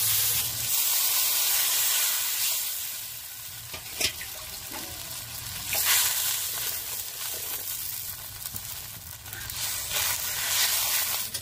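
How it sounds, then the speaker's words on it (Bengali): Water poured into hot, sizzling masala in a pan for bhetki fish curry, giving a loud steady frying hiss with sharp crackling spurts and stirring, no voices. "এবারে আমি জলটা দিয়ে দেবো।"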